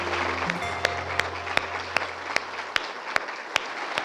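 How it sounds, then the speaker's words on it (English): An audience at a children's summit applauds, steady moderate clapping under which a few evenly spaced, sharper claps ring out near the front, with a low hum fading at the start. "I think that deserves some applause"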